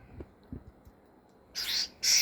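A bird gives two loud, harsh, high-pitched calls in quick succession near the end, after a stretch of quiet outdoor background with a few soft knocks.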